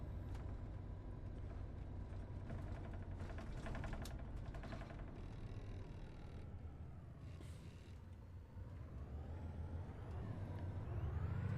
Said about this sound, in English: This bus is a bit quieter and it does sound a bit weirder at times.